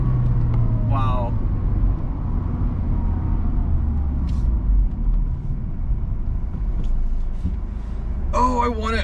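A 1998 Mercedes-Benz CLK230 Kompressor with a five-speed manual gearbox drives along with a steady low engine and road rumble from inside the cabin, while a few voices speak briefly over it.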